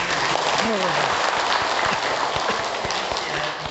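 An audience applauds a lecturer in a temple study class with steady, dense clapping that holds at full strength for nearly four seconds and eases slightly at the end, while a voice speaks over it.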